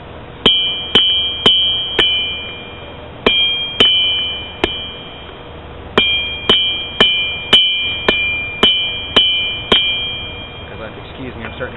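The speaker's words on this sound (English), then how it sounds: "just the same as if I was hammering an edge in" Repeated ringing hammer blows on steel, drawing the end of a hammer-turned-small-axe to a point. About fifteen sharp, close strikes come in quick bursts separated by brief pauses, each with a bright metallic ring and no speech.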